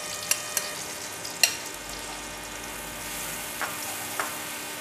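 Spice paste hits melted ghee in a pan for soyabean tikka curry, giving a steady soft sizzle with a few sharp spoon clicks near the start, no voices.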